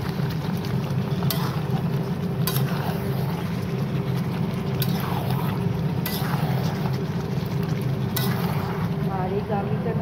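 Mutton curry with potatoes being sautéed in a pan, a constant close sizzle with occasional sharp stirring scrapes and knocks spaced a couple of seconds apart.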